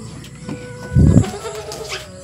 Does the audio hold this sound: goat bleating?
yes